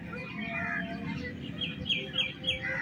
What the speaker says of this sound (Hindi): ये सामने तोते देखें, कितने प्यारे प्यारे, इतने प्यारे प्यारे तोते खा रहे हैं सामने।